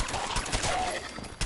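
Gunfire in Fallout 4 crackles in a quick string of sharp shots, close and fairly loud, with a final crack near the end.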